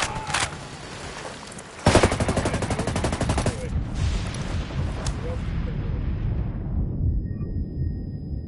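A dense, sustained burst of automatic rifle fire erupts suddenly and rattles on for several seconds in the tactical shooter Ghost Recon Wildlands, with a few loud single shots around it, then tapers off into faint ambience while voices speak.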